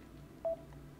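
A mobile phone gives a brief electronic tone, a single short clean beep standing out faintly over quiet background hum.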